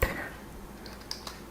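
Short bursts of typing on a computer keyboard while a name is entered into an account sign-up form, a few quiet scattered keystrokes close by with a soft thump at the start.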